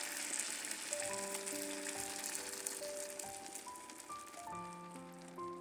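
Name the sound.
cabbage buns pan-frying after pouring in starch water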